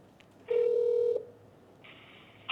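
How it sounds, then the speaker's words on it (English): A telephone call to an awning company's support line: a short dial tone, then a steady electronic ringback tone beginning near the end, close and clear with no speech. "let me call a real phone number and show you how a support can look like."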